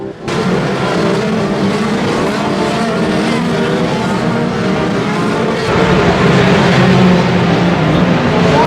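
Race cars at the Grand Prix of Long Beach street circuit roar past continuously after a pit stop for tires and fuel, a loud sustained engine wail that swells as the field streams by.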